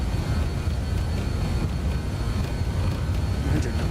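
Loud, steady low roar of BAe 146 jet engines at takeoff power during a USAir Express takeoff roll in a flight simulator, constant and heavy throughout the clip.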